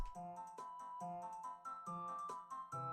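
Phone ringing on an outgoing call, a faint electronic tone pattern repeating in short beeping phrases, heard alone without talk.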